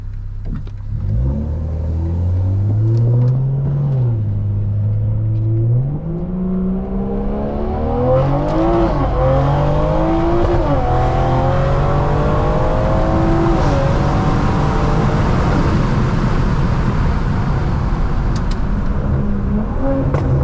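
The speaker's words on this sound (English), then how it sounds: "Those pops are just nasty." Stage 2 tuned BMW M340i revving and accelerating hard, the engine note climbing through repeated gear pulls, loud and close with a rumbling exhaust and crackling pops as it lets off.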